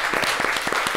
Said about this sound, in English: They're clapping for me.